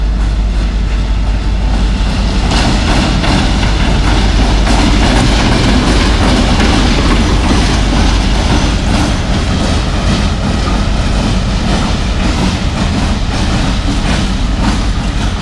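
An EMD GMCU diesel locomotive, imported from the USA in the 1970s and running in Pakistan, rolls up to couple onto a passenger train. Steady, loud rail rumble and clickety-clack with a heavy low engine drone continue throughout.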